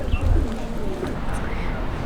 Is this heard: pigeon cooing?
yes